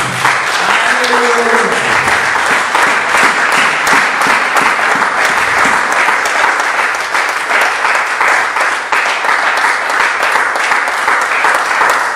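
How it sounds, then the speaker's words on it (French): A church congregation breaks into loud, sustained applause mixed with cheering and acclamations, dense clapping filling the room throughout with voices shouting over it. "Permettez-moi de demander les acclamations, des véritables acclamations pour le sang d'Israël, notre Père, notre Dieu."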